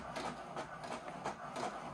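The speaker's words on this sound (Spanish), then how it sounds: "Simplemente ya vamos a imprimir la hoja de pruebas con toda la configuración de la impresora." An HP DeskJet Ink Advantage 2775 inkjet printer runs a test page, giving a steady mechanical whir with repeated rhythmic pulses as the print head sweeps back and forth, close and moderately quiet.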